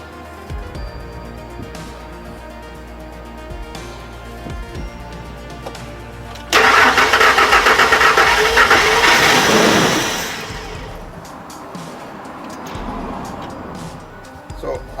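The engine of a Ford F150 with fuel-system fault code P0232 cranks for a few seconds in a loud, rapid whirring burst without catching, then falls quiet, with someone speaking around it.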